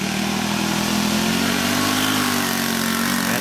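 A go-kart engine drones steadily during backyard time trials, a continuous buzzing mid-pitched motor sound holding near and loud without pause.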